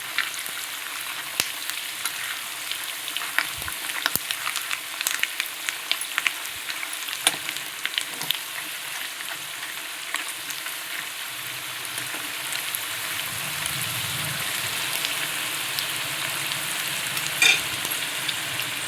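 Garlic and curry leaves frying in oil for a spicy North Karnataka churumuri snack, with a continuous hiss and frequent sharp crackles and stirring taps up close, no voices.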